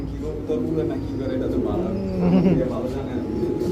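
Pigeons coo in low, rolling murmurs, steady and fairly close, with voices talking over them.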